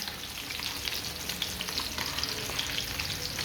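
Ayila fish (mackerel) frying in a pan over a medium flame, giving a steady, dense sizzle with fine crackles and pops that carry on without a break, close up and with no voices.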